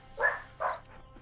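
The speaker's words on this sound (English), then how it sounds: "With the dogs inside still fighting" Dogs kept indoors together in a neglect case, fighting, with two short loud bark-like yelps close by against a low steady hum.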